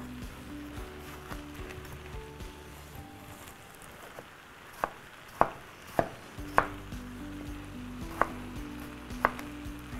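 A knife chops tomatoes on a cutting board for imam bayıldı, a string of sharp, evenly spaced taps against a low background hum.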